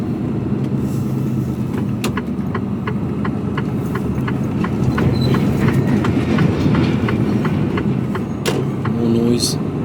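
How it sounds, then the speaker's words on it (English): Heard from inside a Mercedes-Benz Actros truck cab at busy UK container docks, a loud continuous rumble of machinery and traffic carries a steady run of regular clacking beats, with a voice talking briefly over it. "Nothing quiet about the docks."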